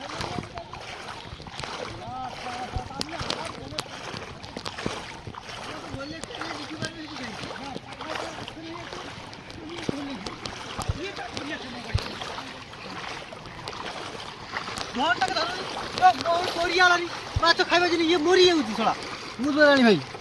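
A boat pushes through floodwater around a village after a flood, with a continuous wash and splash of water while people talk loudly over it throughout.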